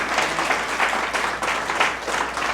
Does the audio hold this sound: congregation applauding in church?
yes